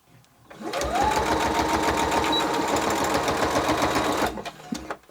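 A sewing machine back stitching a pillow cover runs in one close, steady rapid mechanical chatter for about four seconds, then stops with a small clunk.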